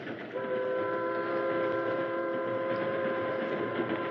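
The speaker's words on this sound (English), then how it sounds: "the presidential train was nearing the far western terminus of the Santa Fe Railroad" A steam train on the Santa Fe Railroad rumbles along steadily, with a sustained whistle-like tone held over the constant mechanical drone throughout.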